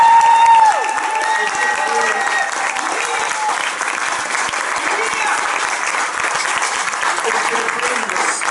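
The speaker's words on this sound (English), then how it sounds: "Let's give him a round of applause." Loud, sustained crowd applause at a political rally, steady dense clapping and cheering filling the room for several seconds after a brief introduction.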